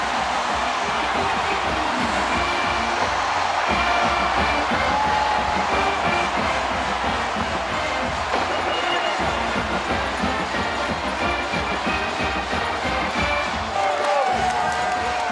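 A large stadium crowd roars and cheers at a Northwestern at Purdue college football game after a touchdown catch, a sustained loud wash of noise with a commentator talking over it.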